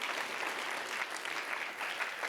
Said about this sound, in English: One more round of applause for this incredibly talented group.